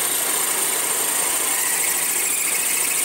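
A high-pitched whine from a slightly dull power drill runs continuously and evenly at close range, with no pauses, during a Harley-Davidson Evolution engine rebuild.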